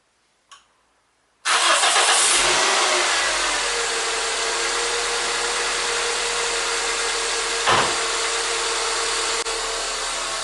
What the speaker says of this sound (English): Let's start the engine once more.